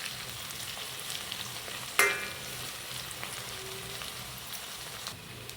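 Onions frying in oil for paruppu urundai kuzhambu give a steady close sizzle, broken by one sharp utensil clink about two seconds in and a few faint stirring scrapes.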